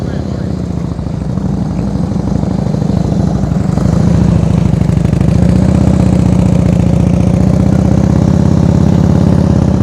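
A motorcycle engine runs at low revs during slow-speed riding practice, a steady close throb that swells a little as throttle is added partway through, while a coach talks over it.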